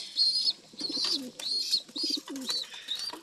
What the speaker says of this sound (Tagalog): Ayun yung nanay mga kalapatids.